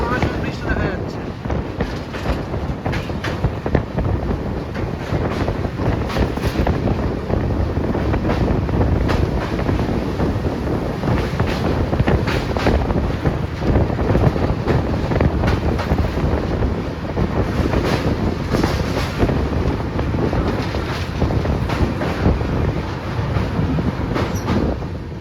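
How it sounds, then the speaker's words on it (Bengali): Cold wind buffets a moving train as it crosses the Teesta river near the Coronation Bridge, a loud, constant roar of rushing air mixed with rolling rail noise throughout. "আর সেই সঙ্গে বইছে ঠান্ডা হাওয়া।"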